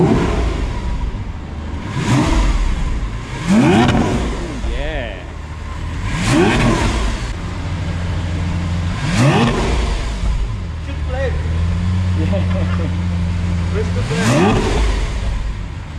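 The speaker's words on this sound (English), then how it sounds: "Can you give it a rev up for us?" Lamborghini Aventador engine revved repeatedly, a series of sharp loud throttle blips that rise and fall roughly every couple of seconds, some held briefly, with voices talking in between.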